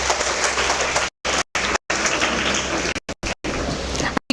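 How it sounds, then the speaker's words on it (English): Audience applause at a felicitation ceremony held in a hall, a dense continuous wash of clapping broken by several abrupt silent gaps. "A big round of applause."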